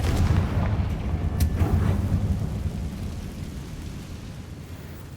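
A Confringo blasting spell explodes in the wizarding game Hogwarts Legacy, a heavy booming blast that starts loud and rolls off into a long, slowly fading rumble.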